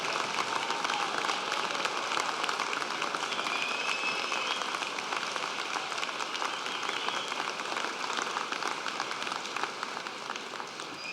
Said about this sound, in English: let the graduates applaud and thank them